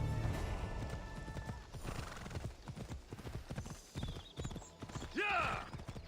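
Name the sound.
horse riding hooves from Assassin's Creed Odyssey, a video game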